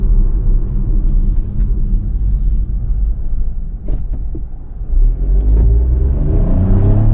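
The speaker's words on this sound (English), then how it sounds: "you gotta wait a second for the turbo to spool up to get this thing moving down the road" A 2025 Chevrolet Trax Activ's small turbo engine revs up under acceleration after a brief turbo lag, a steady low rumble and whir that builds in pitch, heard from close inside the vehicle.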